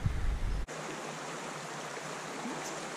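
Spring Creek's shallow, rocky, mossy water rushes steadily in a continuous broadband wash, close and fairly loud, preceded by a brief low thump of handling noise at the start.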